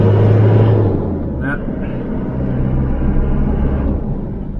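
A Holden Isuzu Rodeo engine lacking power drones as a low, strained rumble that holds fairly steady throughout, with someone talking over it.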